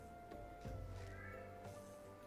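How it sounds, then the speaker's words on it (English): A cat meows faintly in the background, a few short plaintive cries spaced out over a couple of seconds with no talking. "I can hear Cinnamon crying now. These cats, man"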